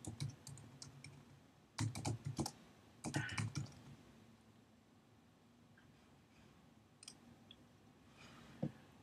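Typing a comment on a computer keyboard in short bursts of quick, close clicking keystrokes, separated by quiet pauses and a few isolated key taps.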